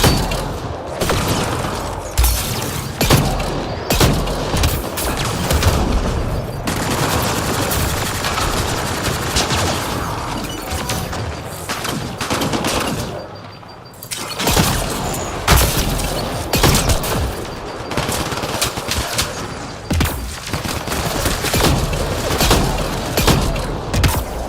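Shotgun fire and combat in the Mass Effect Andromeda video game, heavy booming blasts and rapid gunfire repeating throughout under a loud, busy battle din, with a short quieter gap midway.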